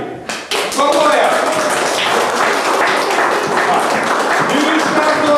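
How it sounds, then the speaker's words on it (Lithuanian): A group, likely children at a kindergarten birthday and art exhibition, breaks into loud, sustained applause that carries steadily through the clip after a brief lead-in, with voices mixed in. "Tai Barbora, tau didelį aplodismentą,"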